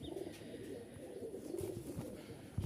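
A Giribaz pigeon cooing softly in low, repeated throaty notes against faint background noise, with no talking.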